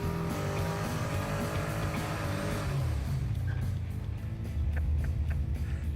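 A 500-horsepower 1979 Chevy Malibu on 175 tires doing a burnout, its engine roaring loudly and steadily up close as the revs fall and then climb again, with tire noise throughout.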